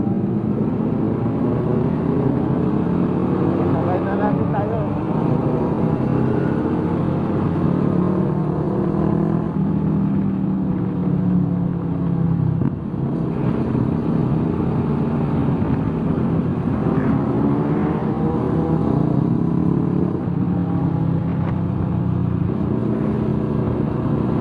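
A motorcycle engine running steadily in a continuous low drone, close and loud, holding a constant level throughout with no speech.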